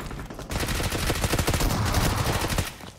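Rapid gunfire from a shotgun fight in the battle royale game BGMI, a dense run of loud, closely spaced blasts that carries on almost unbroken for about two and a half seconds.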